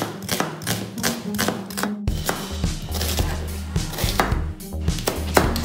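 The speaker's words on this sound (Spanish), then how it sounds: "Luego procedemos a cortar la cebolla paiteña o colorada" A knife chops red onion on a board for Esmeraldan fish tapao, giving quick repeated thuds in fast bursts with a brief pause, close and fairly loud.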